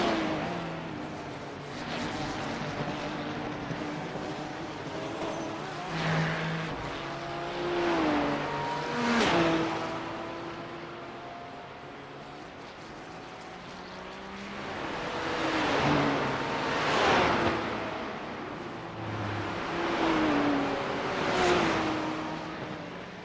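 Race cars at the Nürburgring 24 hour race, engines rising and falling through gear changes as cars pass in several waves, moderately near, with no talk.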